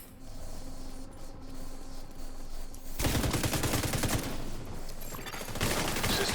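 Sniper rifle shots ring out in a video game, loud rapid gunfire bursts starting midway and continuing to the end over a steady background din.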